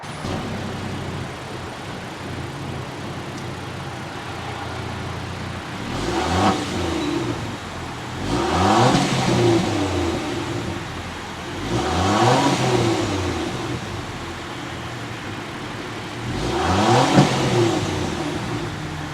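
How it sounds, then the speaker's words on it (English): A Land Rover Defender 110's turbo inline-six engine idles with a deep exhaust rumble, then revs up and falls back several times in slow, evenly spaced surges. "start it up so you can hear that exhaust note"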